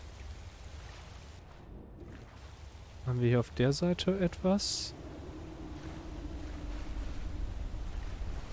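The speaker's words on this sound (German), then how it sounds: "Hier ist der Wasserfall." A waterfall in the video game Skyrim makes a soft, steady rushing wash in the background while someone talks over it.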